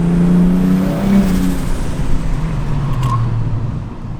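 A Ford Barra car engine revs and drops as the BTR automatic transmission shifts gears roughly, the pitch stepping down once, loud and close from inside the vehicle.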